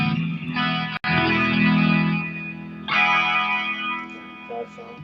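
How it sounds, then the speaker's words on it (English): Electric guitar played through an effects unit with chorus and distortion, sustained chords ringing with a sharp break near the start, then a second swell of bright, processed tone fading out. "Guitar sound."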